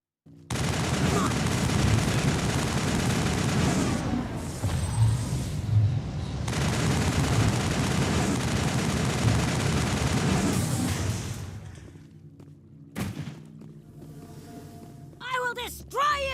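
Sustained, loud gunfire fills a firefight in the video game Mass Effect 1, a dense continuous roar of shots that drops away near the end, followed by voices talking.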